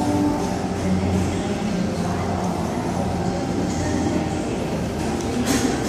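An Oscar train rumbles steadily and loudly into platform 1 at Hurstville Station in Sydney, its broadband roar and rattling wheel noise continuing throughout with no talking.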